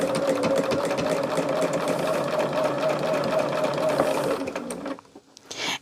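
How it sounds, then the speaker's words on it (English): A sewing machine runs steadily, stitching quilt block pieces together in a close, loud, continuous whir before it slows and stops near the end, with no talking. "I will put these together and pin them and then sew them together"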